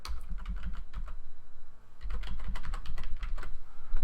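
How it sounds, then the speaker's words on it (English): Rapid keystrokes on a computer keyboard as a web address is typed, two bursts of irregular close clicking separated by a brief pause, with no talking. "Now I got to type in a URL again"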